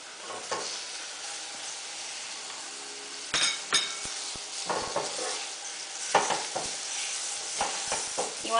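Beef stirred and fried with turmeric in a pot for khoresht qeymeh: a steady, fairly soft sizzle, with a spoon scraping and clinking against the pot at irregular intervals, close by, with no talking.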